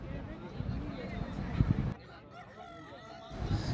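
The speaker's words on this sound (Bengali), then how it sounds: "দেখা যাক কে জিতছে এই যে দুটো মোরগের ভিতরে" Two roosters fighting cluck and squawk in a scuffle, set against the steady murmur of a gathered crowd.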